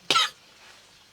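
One short, sharp cough close to the microphone, then a brief quiet stretch and a faint start of another sound at the end.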